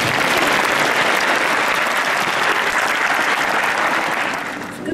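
Dense, sustained audience applause at a school's 115th anniversary ceremony in Plovdiv, loud and steady for several seconds before easing slightly near the end, with no speech over it.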